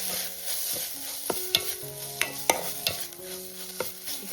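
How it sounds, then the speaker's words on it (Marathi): Goda masala being stirred in a pan of oil for a Konkan-style mandeli fish curry, with steady spoon scraping and sharp taps against the pan over a soft, continuous sizzle. "आणि आता हे मिक्स करून घेते"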